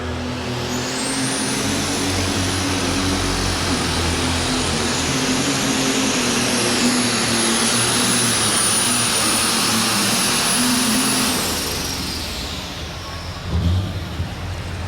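An alcohol super stock pulling tractor roars loud and sustained at a tractor pull in Louisville, Kentucky, with a rising high whine, then fades toward the end.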